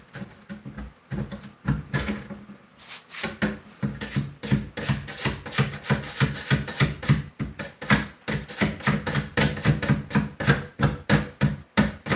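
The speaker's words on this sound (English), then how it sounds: "Let's try to scrape this black stuff off first with this machete." A machete blade scrapes and chops at stubborn black residue in rapid, repeated strokes, each one a sharp rasping hit, steady and close with no pauses for talk.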